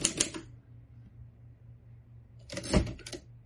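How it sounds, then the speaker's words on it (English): A Royal Empress typewriter clacks in two quick bursts of keystrokes a couple of seconds apart, close and fairly quiet over a faint steady hum. "You can type there."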